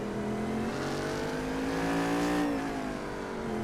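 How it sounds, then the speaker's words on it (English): The Cadillac race car engine in the iRacing video game drones loud and close at high revs, its pitch rising through a gear and dropping briefly before climbing again, with no talk over it. "turn up the volume on the device you're watching and listen to that Cadillac engine"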